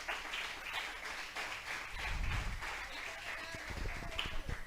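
A church congregation applauds together, a steady wash of clapping with a few louder patches and some murmured voices mixed in.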